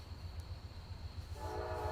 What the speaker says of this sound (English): The trains heard you were here, Killswitch.